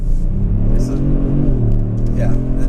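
A 2018 Kia Stinger GT2 AWD engine revs and accelerates with a steady, loud rumbling drone that rises in pitch, with people talking over it throughout.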